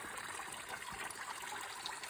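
Spring water pours nonstop from its source into a small pipe, making a steady, close trickling and gushing wash that holds constant without breaks.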